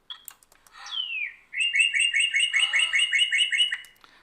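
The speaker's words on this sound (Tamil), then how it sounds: "ஸோ அந்த பறவை பிடுங்கிட்டு போகும்போது ஏற்படுற சவுண்டு இது" A bird-snatching sound effect built from edited bird calls: a few sharp clicks and a sweeping downward whistle lead into a long, loud, rhythmic trill of bright repeated chirps, close and alone.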